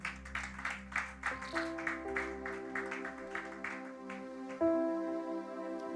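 A church congregation claps in a steady rhythm for a few seconds as sustained keyboard chords swell and take over, the claps fading out under the music.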